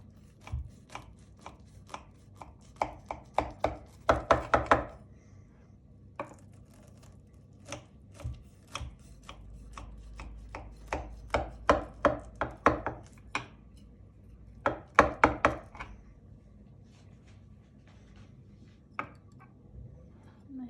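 Crisp baked kadayif dessert cut into slices with a knife, giving a series of sharp, close crunching and crackling bursts in irregular clusters, with quiet pauses between the cuts.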